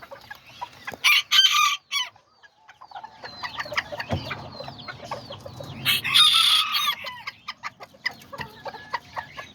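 Chickens cluck and a rooster crows among a backyard flock of Azteca fowl with new chicks, with bursts of loud crowing and steady nearby clucking throughout.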